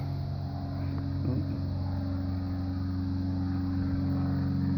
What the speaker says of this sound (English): It's like the slowest damn plane I've ever seen.